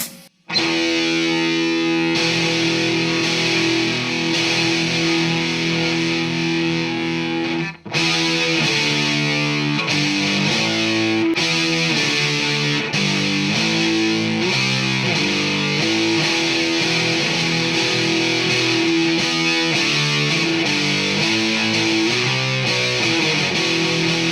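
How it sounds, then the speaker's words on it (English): Heavily distorted electric guitar, a 2003 Gibson SG through a Boss DS-2 Turbo Distortion pedal, plays loud, crunchy chords and riffs, pausing briefly partway through before continuing steadily. "Today I'm going to be using the Boss DS2 turbo distortion pedal."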